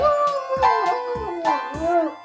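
A black dog howls along with piano playing, long wavering howls and whines sliding up and down in pitch, while sharp piano notes strike at regular intervals underneath.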